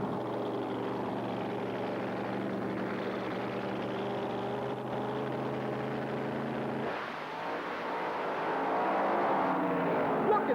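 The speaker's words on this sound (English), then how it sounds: "Look at that Camaro side by side with the Dragster all the way" A Camaro and a dragster race side by side down an Australian drag strip in the 1980s, a loud sustained engine roar that shifts abruptly in pitch partway through, then swells again as the cars pull away.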